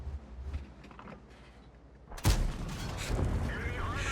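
A tank gun from a TS-5 tank destroyer in World of Tanks fires at an enemy cupola, one sharp loud blast midway followed by a rumbling echo, after quieter ambient battlefield noise.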